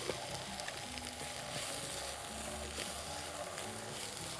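Seasoned chicken with salt and black pepper sautéing in a pan: a steady, dense sizzle and frying hiss that stays up close and constant throughout, with no talking.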